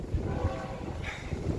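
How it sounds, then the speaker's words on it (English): Train passing through Marceline, Missouri, a low rumbling roll of railcars with a faint horn-like tone drifting in, moderately distant and steady. "Do you hear the other train?"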